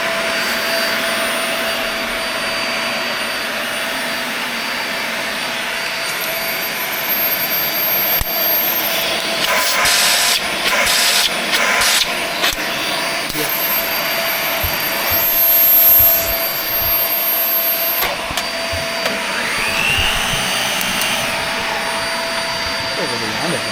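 A vacuum cleaner runs through a floor test after repair, its steady whirring drone holding for the whole stretch with some louder surges partway through, and a voice speaking over it.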